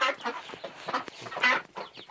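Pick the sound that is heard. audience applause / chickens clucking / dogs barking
chickens clucking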